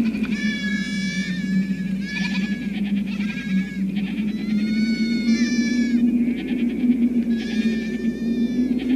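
A flock of sheep, about thirty animals with a shepherd in open countryside, bleating repeatedly and overlapping at close to middle distance over a steady low background murmur, with no talking.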